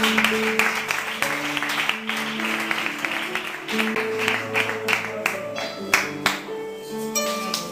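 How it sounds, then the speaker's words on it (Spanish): Congregation applauding during a church service, a broad sustained wash of clapping with sustained keyboard or organ chords underneath and voices mixed in. "Le dan un aplauso al Señor, por favor."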